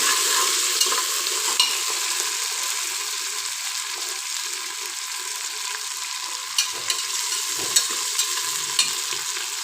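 Chopped tomatoes sauté in a pan for a vegetable and pea biryani, a continuous close sizzle with occasional scraping and clinking stirs of a spoon.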